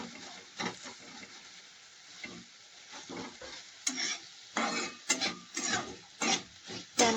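Sprouted moong sautéed in a pan, giving a close, uneven run of scraping stirs and soft sizzling that grows busier and louder toward the end, with no talk.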